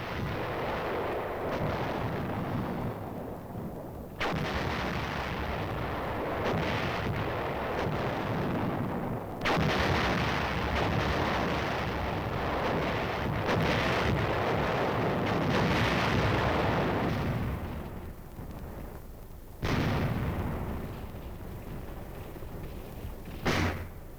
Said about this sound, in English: 3rd Division artillery moved in to plug the gaps with firepower.